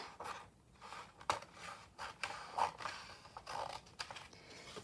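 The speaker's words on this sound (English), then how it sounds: "I'm just going to cut this off along here." Scissors snip through 6x6 scrapbook paper for a patchwork journal cover, a few quiet, irregular cuts and rustles heard up close with no talking.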